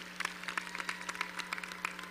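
Scattered, fairly faint clapping from graduates at a 2012 college commencement ceremony, a loose patter of hands over a low steady hum, with no talking.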